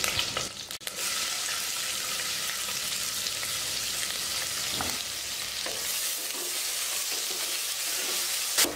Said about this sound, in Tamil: வெங்காயத்தை பொன்னிறமாக வதக்கியாச்சு